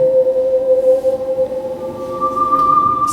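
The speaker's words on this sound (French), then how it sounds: "Ça, c'est le son de 12 étoiles" Sonification of twelve stars with all their harmonics, a steady sustained electronic drone of layered pure tones, one bright whistling pitch sliding in partway through, continuous and fairly loud with no speech.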